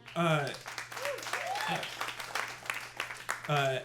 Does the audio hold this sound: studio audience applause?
yes